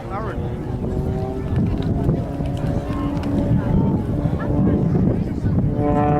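An Extra 300 aerobatic plane's engine drones loudly through a slide manoeuvre at an air show, with a sustained buzzing tone that wavers in pitch, buffeted by wind, and a commentator talking over it.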